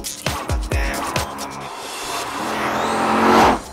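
A red 5.7-litre V8 sports car with 339 horsepower revs loudly, giving a few sharp throttle blips followed by a sustained rising engine roar that builds to a peak and then cuts off.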